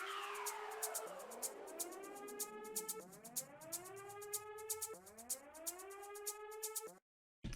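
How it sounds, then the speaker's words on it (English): A rising and falling siren sweeps repeatedly in a tech house track, cycling roughly every two seconds over a rapid ticking beat, then cuts off abruptly. "So then we have a siren coming in."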